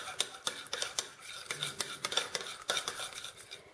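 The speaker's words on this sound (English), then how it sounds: "I'm going to mix some apricot jelly." Apricot jelly for a cheesecake topping being stirred in a bowl with a utensil, giving quick, steady, close scraping and clinking strokes throughout, with no talking.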